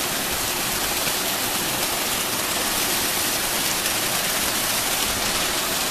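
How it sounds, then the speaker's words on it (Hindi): Steady, dense rush of a waterfall at Chakrasila wildlife sanctuary, a continuous broadband roar holding even throughout with no voices over it. "ये देखिए झरना"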